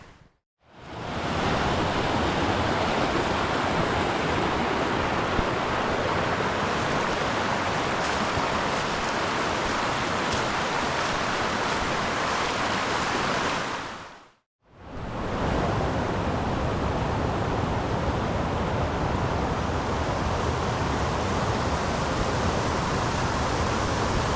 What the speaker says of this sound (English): kind of small to medium-sized freestone stream.